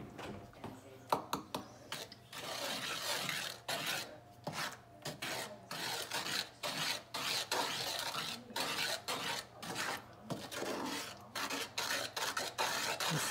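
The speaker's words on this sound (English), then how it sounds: "just gotta mix it all up one more time" Brownie batter being mixed in a bowl for a skillet brownie, giving a steady run of scraping, rasping strokes in an irregular rhythm, close and fairly quiet, with no talk over it.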